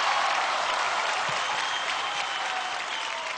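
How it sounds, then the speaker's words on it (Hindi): Audience at a televised Indian talent show grand finale bursting into loud, sustained applause, a dense roar of clapping from a large crowd that holds steady throughout. "जोरदार तालियां इनके लिए"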